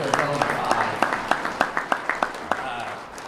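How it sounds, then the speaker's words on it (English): Applause from an audience at a 2018 university sports hall of fame ceremony, a run of distinct claps rising together and then fading away over a few seconds, with a voice heard faintly under it. "So let's give Coach Peterson a round of applause."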